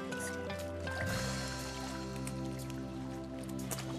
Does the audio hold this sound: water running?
yes